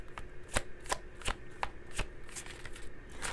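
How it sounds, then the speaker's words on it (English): A deck of oracle cards is shuffled up close, with a steady run of crisp, rhythmic card slaps and riffles and no talking. "Let's just get a few situations oracle cards,"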